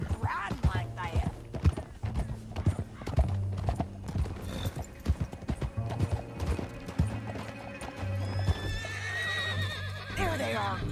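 Horse hooves clip-clop at a steady riding gait in the Red Dead Redemption 2 video game, close and prominent, with a horse whinnying and background music and game sounds running throughout.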